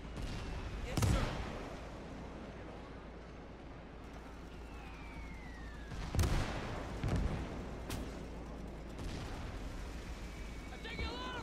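Gunfire in an Iwo Jima battle mission of a video game: several sharp shots and bursts at scattered intervals, some close and loud, others more distant, over a steady rumble of battlefield ambience.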